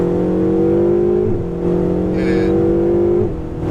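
A Ferrari 488 GTB engine pulls hard on a race track, a loud sustained drone that dips briefly at each gear change and then climbs again, with a short spoken word over it.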